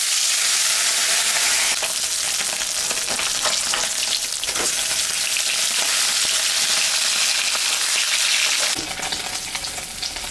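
Leta fish frying in hot oil with turmeric, a loud, steady close sizzle and crackle that fills the whole stretch, easing slightly toward the end.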